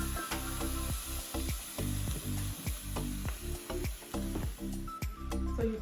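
Garlic cloves and chili flakes sizzle in an 11-inch Saladmaster pot, a steady close frying hiss broken by repeated clicks and scrapes of stirring, with no voice.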